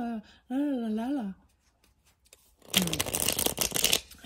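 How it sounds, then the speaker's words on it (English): Tarot cards being shuffled, a dense papery riffling that rises near and fairly loud after a stretch of melodic humming or singing and brief quiet. "I'm going to give it a good shuffle"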